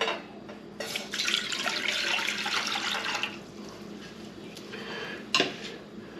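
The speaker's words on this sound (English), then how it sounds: "First thing that we need is 2 cups of water. We'll get that in our pan." Two cups of water pour into a metal pan for a few seconds with a hollow splashing rush, then clanks of the pan follow, close and clear.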